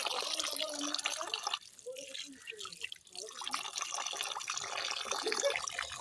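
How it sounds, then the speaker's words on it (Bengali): Rice being washed by hand in a pot of water, with sloshing, trickling and splashing sounds, a quieter pause partway, then renewed swishing of grains and water close by. "এই যে চাল ধুয়ে নিই।"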